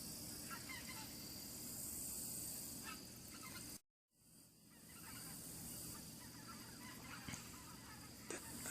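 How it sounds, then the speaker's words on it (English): A large flock of geese flying overhead in formation, many overlapping honks calling continuously at a moderate distance, briefly cut by a dropout midway, with no talk. "That's a lot of geese."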